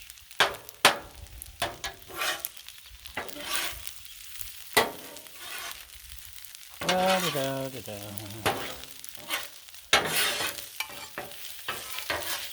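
Linguica sausage fried rice sizzles steadily on a Blackstone griddle while a metal spatula scrapes, clanks and stirs in sharp repeated strikes, with a voice speaking briefly in the middle.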